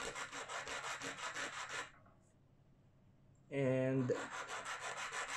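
A file rasps against the point of a fishing hook in short, rhythmic strokes, close up, then pauses before a brief spoken word and more strokes.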